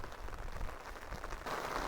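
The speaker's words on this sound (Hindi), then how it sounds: "बारिश तेज़ हो गई है ज़्यादा" Steady heavy rain at a monsoon hill station in Toranmal, Maharashtra, a dense continuous patter that swells louder toward the end, with no talk over it.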